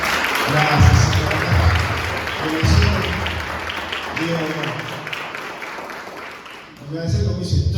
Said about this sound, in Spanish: Acá, dando un aplauso al Señor